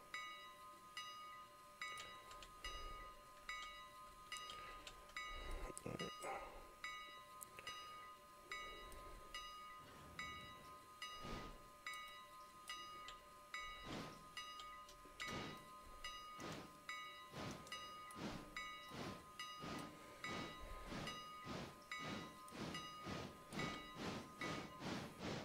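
Simulated steam locomotive pulling away with a passenger train in the game Railroader, rhythmic chuffs quickening from slow, spaced bursts to a rapid beat, over a steady mechanical hum with faint bell-like ringing.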